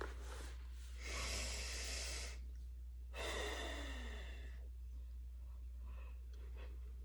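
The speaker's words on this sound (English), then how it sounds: "Take another deep breath in" A slow, deep breath drawn in during a guided visualization, heard as two long, soft airy inhalations separated by a pause, close and quiet over a steady low hum.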